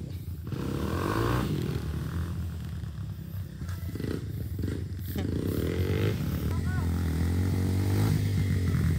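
A motorcycle engine rumbles and revs steadily throughout, loud and close, with people talking and shouting over it.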